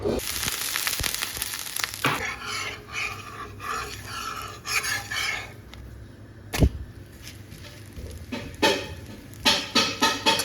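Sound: dosa cooking on a pan

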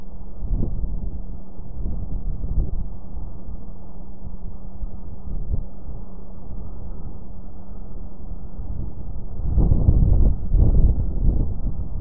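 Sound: wind blowing over Lake Huron

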